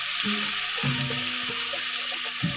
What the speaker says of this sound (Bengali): হালকা করে ভেজে নিচ্ছি ভালো মতো মিশিয়ে নিচ্ছি